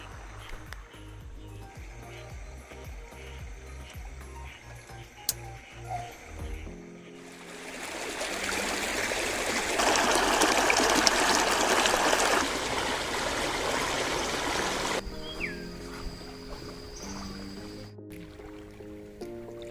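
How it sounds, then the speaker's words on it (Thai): Steady rush of a waterfall and flowing stream in Suan Phueng, Ratchaburi, Thailand, swelling louder for a stretch in the middle, with repeated tonal calls of mountain frogs over the top. "เสียงน้ำตกเยนไปนะครับ แล้วก็กบภูเขาร้องครับ"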